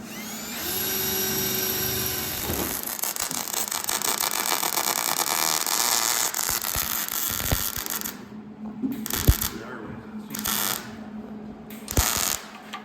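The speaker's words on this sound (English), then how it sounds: "is drilling the hole so we can drill through or weld through" A power drill bores a hole through a Porsche firewall in a workshop, a loud sustained whining grind for several seconds, followed by a few sharp clanks and taps as it stops.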